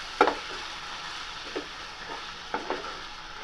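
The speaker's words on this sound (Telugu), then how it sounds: "ఆనియన్స్లో టమోటా అన్నీ కలిసేటట్టుగా ఈ విధంగా కలిపి ఉడికించుకోవాలి." Onions, tomatoes and spices for a chicken curry cook in a pan and are stirred, giving a soft, continuous sizzle broken by a few sharp spoon scrapes and taps, close by with no talking.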